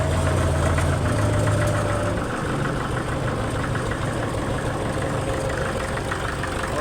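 An old Soviet-made tractor engine idles in Laos with a loud, continuous knocking rumble and a slight low throb that eases a little after the first couple of seconds.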